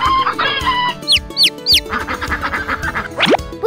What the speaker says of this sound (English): all the chickens are back.